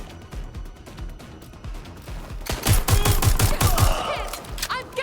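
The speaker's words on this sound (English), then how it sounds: "Suspect is shooting!" Automatic gunfire in the video game Watch Dogs Legion, with scattered shots at first building into a loud rapid burst of rounds, plus game ambience and no talk.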